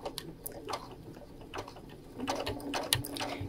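A Brother sewing machine doing free motion quilting on fabric produces faint, quiet mechanical ticking and short bursts of stitching in an irregular rhythm, with no voices.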